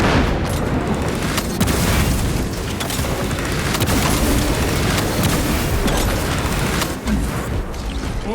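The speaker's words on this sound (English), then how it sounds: "Deploying crack grenade." A crack grenade detonates in the Warhammer 40k video game Space Marine 2, a loud booming blast buried in a dense, continuous wash of battle noise and gunfire that holds steady for several seconds.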